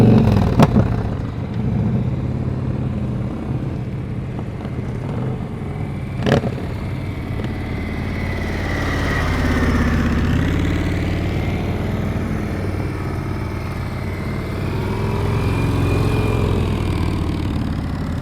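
A motorcycle engine runs at low, steady throttle during slow-speed riding practice, a continuous close rumble with gentle rises and falls in pitch as the bike maneuvers, and a couple of sharp clicks early on.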